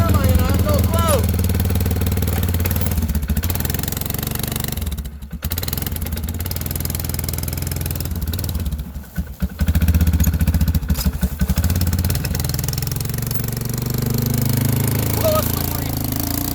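Polaris Sportsman 500 ATV engine cold-starting and running rough in snowy winter conditions, a loud close clattering idle with brief dips and revs, with a voice speaking over it.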